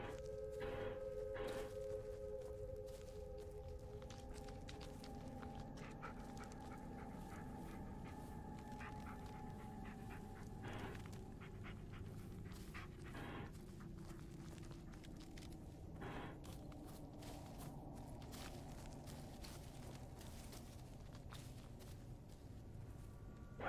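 Dog companion in the Blair Witch video game panting softly through a long quiet stretch, with faint whimpers, footsteps in the woods and occasional tonal game sounds in the background.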